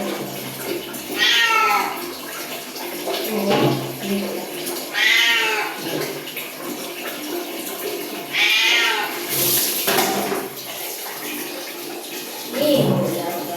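A cat meows repeatedly and plaintively while being bathed, its cries rising over running water and splashing, with a person talking softly throughout.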